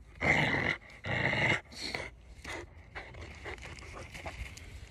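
A pitbull growls close by in two loud rumbling bursts, then gives quieter, broken snarls that fade toward the end.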